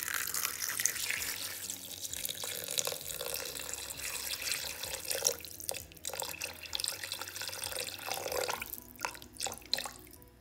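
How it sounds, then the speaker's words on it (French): Water poured into a Thermomix bowl for a Moroccan lentil dish, a continuous splashing, gurgling stream with some dripping, close and moderately loud with no talk. "Et je vais mettre au moins 600 g d'eau ou 700."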